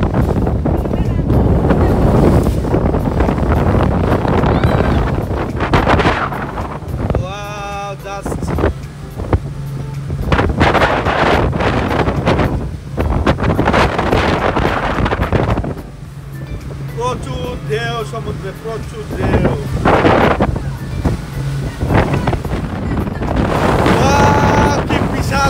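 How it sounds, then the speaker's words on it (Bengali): Strong wind buffets the microphone on a moving boat out on the Red Sea off Yanbu, roaring loudly almost throughout with brief lulls, while people talk over it at times. "বাতাস আজকে সমুদ্রে প্রচন্ড বাতাস"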